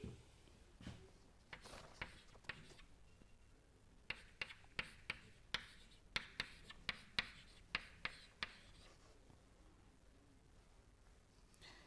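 A pen scratches across paper by hand as thermodynamics problem values are written down, producing faint, uneven taps and strokes in a quiet room, with the sharpest bursts grouped in the middle.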